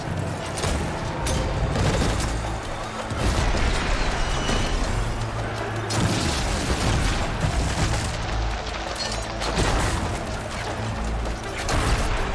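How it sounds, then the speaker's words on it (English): Barrage of advanced explosive spikes in Horizon Forbidden West, fired at a Corruptor machine: a dense, continuous rumble of blasts and booms with layered mechanical clatter, loud and sustained throughout without letup. "follow up with a barrage of advanced explosive spikes"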